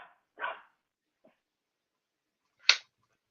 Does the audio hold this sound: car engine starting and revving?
no